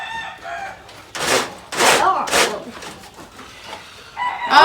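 A chicken on a farm sounding off nearby with loud, harsh squawks and clucks in several bursts, close to the listener, with a person's voice briefly heard.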